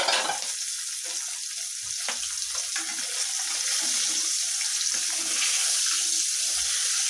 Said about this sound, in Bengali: এভাবে করে আমি সবগুলো মাছ খুব সুন্দর করে ভেজে নেব